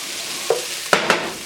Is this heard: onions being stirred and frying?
yes